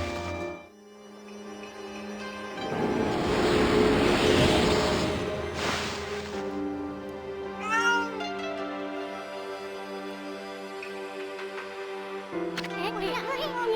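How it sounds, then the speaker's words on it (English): Cat meowing in the video game Okami, repeated drawn-out mews and a rising caterwaul over sustained game music and effects. "Stop meowing."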